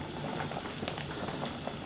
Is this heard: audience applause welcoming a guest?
no